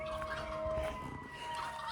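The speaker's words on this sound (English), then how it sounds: "They do not like ambulance sounds." An ambulance siren wails faintly in the distance, its steady rising and falling tone carried over an outdoor vegetable garden in the Pacific Northwest.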